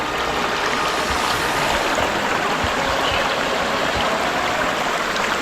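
A cold mountain stream rushes steadily over rocks on the Sathuragiri hill trek, a loud, close, continuous flow with no talking.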